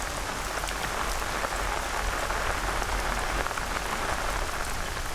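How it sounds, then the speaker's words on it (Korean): Steady rain pours down onto surfaces, a dense, even wash of patter that continues unchanged throughout, moderately loud with no voices. "비가 내린다."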